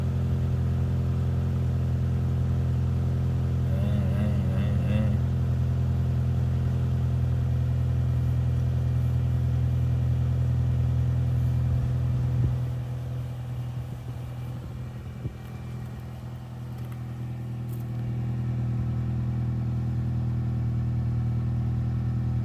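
A 2007-2008 Honda Fit engine idling steadily with a low, continuous hum, with a slight unevenness from a misfire and a brief dip in level midway.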